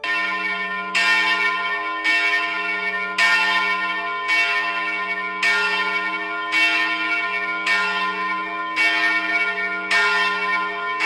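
Church bells ring in a steady, evenly spaced peal, about ten loud strikes with long shimmering overtones, each one swelling in and fading under a constant low hum, with no voices.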